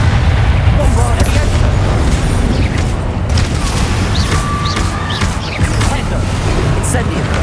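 In Hogwarts Legacy, the Bombarda spell sets off a dense, continuous barrage of loud booming blasts and crackling impacts, mixed with shouted spell incantations.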